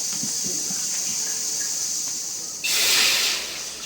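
Water hits a hot wok of leafy greens, bursting into a loud, sharp hissing sizzle after a quieter stretch of faint kitchen sounds, then easing slightly as it settles.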